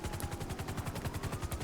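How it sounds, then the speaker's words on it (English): Helicopter-mounted guns firing warning shots in GTA 5, a rapid, loud, sustained automatic burst of evenly spaced shots with no pause. "fire warning shots first"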